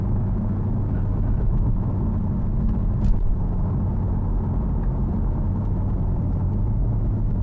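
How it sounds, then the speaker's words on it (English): Steady low engine rumble heard from inside a BMW M3 on the road, a loud, constant drone of tire and exhaust noise with no distinct pops standing out, and no one speaking. "Those are those automatic downshifts with the burble tune thing"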